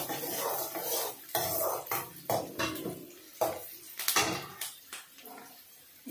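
A spoon scraping and clinking against a pan while green chillies and curry leaves are stirred together, in irregular close-up strokes with faint sizzling beneath.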